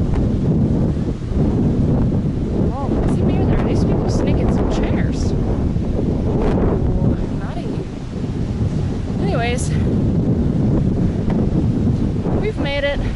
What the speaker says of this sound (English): Gosh, I really hope you can hear me. It's been a windy day.